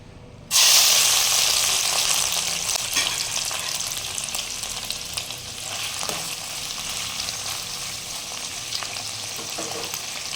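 Prawns drop into hot mustard oil in a pan, and a loud sizzle bursts in at once, then settles into a steady, close frying hiss with small crackles for several seconds.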